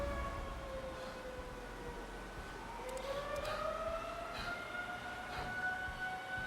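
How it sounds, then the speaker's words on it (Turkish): Sniper Ghost Warrior Contracts sirens drone on continuously, multiple wavering tones sliding up and down against a low rumbling game ambience for the whole stretch. "Yeter artık çalmayın, çalmayın şu sirenleri ya"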